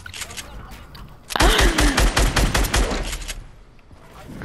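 Rapid automatic gunfire bursts out in a video game after a quieter stretch, a dense run of loud shots lasting a couple of seconds before easing off, with faint game noise around it.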